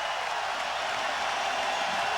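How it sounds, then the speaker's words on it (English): Basketball arena crowd at a 2001-02 University of Houston game against Fresno State roars at full volume, a broad, continuous wash of cheering and noise without pause. "This crowd is standing. This crowd is at full volume."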